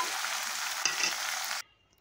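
Coriander leaves fry in a hot tempering with a loud, steady sizzle and a brief stirring scrape partway through, then the sound cuts off abruptly into near silence.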